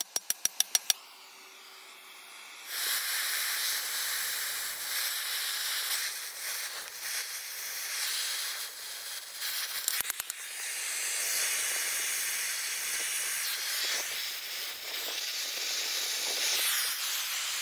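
A torch heating a seized, rusted CV axle hub on a car: a steady, loud roaring hiss that runs continuously for most of the stretch, with a few brief clicks near the start and in the middle.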